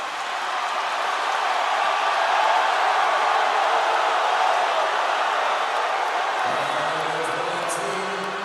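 Spectators at a live basketball finals game, Pampanga vs Cam Sur, roar in a broad, steady wash of cheering that rises slightly and holds throughout, with a lower voice emerging near the end.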